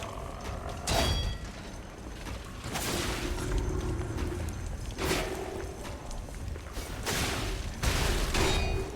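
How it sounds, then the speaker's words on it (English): Bombs explode behind the player in the video game Lies of P, a few heavy booming blasts landing at intervals amid constant clattering mechanical combat noise, with no talking. "the bombs from the other dudes behind me"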